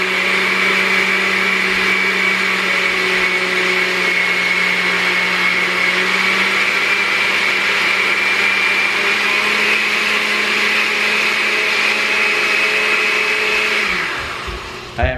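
A countertop blender mixes a protein superfood shake with a loud, steady, high-pitched whirring roar that holds constant for about fourteen seconds before winding down and stopping, close up and alone with no voices.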